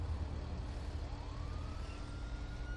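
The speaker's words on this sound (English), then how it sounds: "sounds like a police pursuit coming up beside us" A police car siren wails from a pursuit in the video game GTA V, a faint rising tone sweeping up over a low, rumbling traffic and engine drone.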